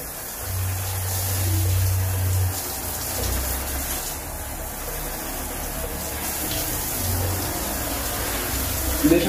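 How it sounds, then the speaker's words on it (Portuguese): Water running from a Lorenzetti Bella Ducha 4T electric shower's hand sprayer, a steady broadband splashing hiss, fairly close, with low rumbles underneath and no talking. "deixa a água sair pela duchinha"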